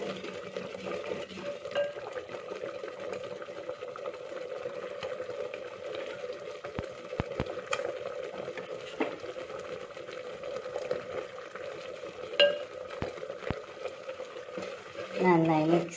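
Kurukku kalan curry mixture being stirred in a pan, with a steady low bubbling simmer and occasional light clicks of a spoon against the pan. Close, under a faint voice.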